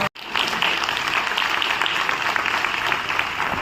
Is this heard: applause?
yes